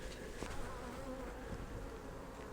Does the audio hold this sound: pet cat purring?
no